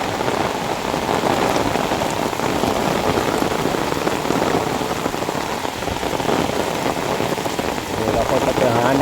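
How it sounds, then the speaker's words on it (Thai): Steady rain pours down, pattering densely across surfaces nearby, a continuous wash of drops with no pauses. "ฝนตก"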